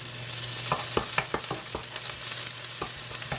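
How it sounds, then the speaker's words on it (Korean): Bacon or ham stir-frying in a pan with olive oil and green onion, a steady broadband sizzle punctuated by sharp, irregular scrapes and clacks of a utensil stirring, close and fairly loud with no talking. "베이컨 또는 햄을 볶아줍니다."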